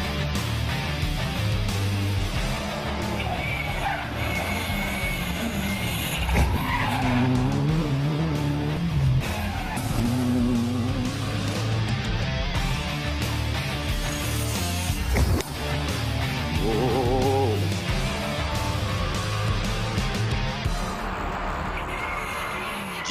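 A Skoda rally car is driven hard, its engine roaring continuously at close range while the tires squeal and skid through turns, with excited voices faintly under the noise.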